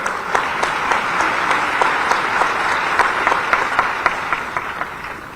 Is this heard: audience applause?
yes